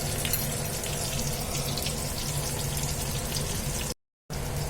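Water runs steadily from a tap while taro root is washed in a kitchen, a close, even rushing hiss that continues without pause and briefly cuts out near the end before starting again.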